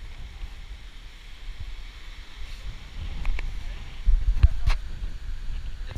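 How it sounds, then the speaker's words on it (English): Steady low rumble of wind buffeting the microphone outdoors near a pool, with a few sharp knocks and clatters toward the end. "It's fucking windy."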